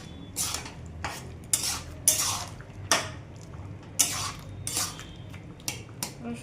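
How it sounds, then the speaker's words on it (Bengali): A spoon or spatula stirs garlic and vegetables in a cooking pot, making a series of sharp metallic scrapes and clinks in an irregular rhythm, close by and with no talk. "রসুনটা দিয়ে এবার একটু আবার নাড়িয়ে দেব।"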